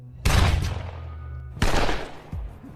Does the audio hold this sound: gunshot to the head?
yes